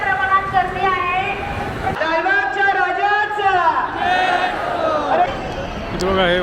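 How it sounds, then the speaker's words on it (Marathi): A huge crowd of devotees at Lalbaug cha Raja during the 2024 festival, its hubbub running steadily beneath a person talking close by. "खूप प्रचंड प्रमाणात गर्दी आहे"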